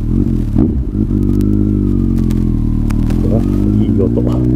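Kawasaki ZRX1200 DAEG motorcycle engine running up close, a deep, steady throbbing drone with slight shifts in revs and a few light clatters throughout.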